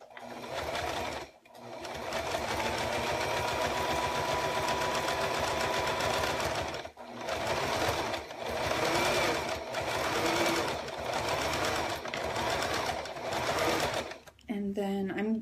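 A sewing machine runs in steady bursts, stitching a straight line through a snowman paper-piecing quilt block, with brief pauses between runs while someone talks over it.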